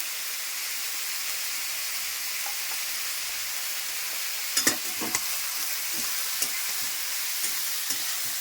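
Food with turmeric and salt fries in a pan under a constant loud sizzle, with a burst of scraping stir strokes midway and a few lighter taps after.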